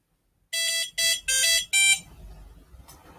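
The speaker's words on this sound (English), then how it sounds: "we've got this buzzer, which is a really simple method of output, but we can make simple music with it" A small buzzer on a Pico-powered wireless robot board plays a short simple tune of four loud, bright electronic tones in quick succession, then stops, leaving faint room noise.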